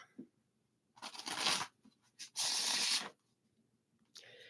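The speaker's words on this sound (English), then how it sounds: "So let's get some shuffles for Lisette and her collective." Tarot cards shuffled by hand during a reading, two crisp riffling bursts close to the ear with soft handling noises in between, fairly quiet overall.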